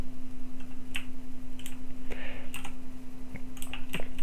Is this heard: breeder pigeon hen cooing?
no